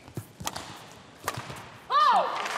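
Badminton shuttlecock struck with a racket in a women's singles semifinal at the Scottish Open: a few sharp snapping hits in an arena, followed by a squeak of shoes and a rising crowd noise.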